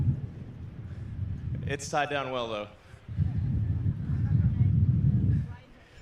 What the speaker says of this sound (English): I actually wasn't expecting it to be this windy.